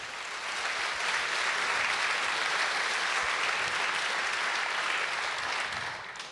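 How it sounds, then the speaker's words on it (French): Sustained applause from a lecture-hall audience at a student debate event, dense steady clapping for about six seconds before tapering off. "C'est pas facile d'applaudir avec un micro, mais bravo"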